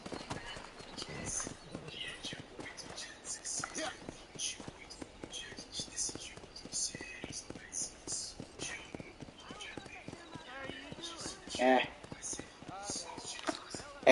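Horse hooves clip-clop steadily in the Red Dead Redemption video game, a soft continuous rhythm of footfalls sitting under quiet, whispery game ambience.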